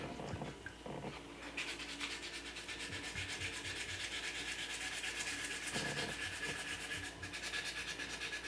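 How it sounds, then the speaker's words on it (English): Wet sandpaper rubbed by hand over a small patch of filler on a quarter-scale Spider-Man figure, a rapid steady scrubbing rhythm of short strokes, close and continuous with a few brief pauses. "I'm just going to go in here with some of this wet sandpaper and finish it off"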